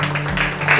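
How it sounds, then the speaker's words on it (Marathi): A studio audience at an MPSC quiz show in an Amravati academy applauds a contestant with a steady wash of clapping, over a low steady hum. "दादांसाठी एक वेळा जोरदार टाळ्या होऊ द्या"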